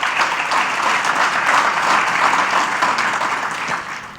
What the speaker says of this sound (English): Give our small country a round of applause